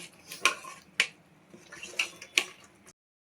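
A spoon clinks and scrapes against a pan while fish masala and salt are mixed in, four or five sharp metallic taps at uneven intervals, close and fairly quiet, with no talking.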